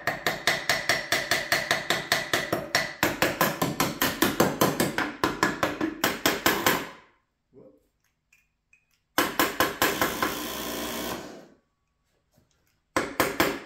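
Repeated tapping on the solenoid of a worn WARN XD9000i winch, near and loud, in steady rapid bursts with a short pause, then resuming briefly before falling silent.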